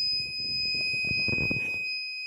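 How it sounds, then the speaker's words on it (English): An active buzzer alarm on a DIY plant watering system sounds a steady, loud, high-pitched continuous tone, triggered when the jar's water level drops below its threshold, with faint rumbling noise underneath. "Once the water level goes below threshold, the alarm starts buzzing."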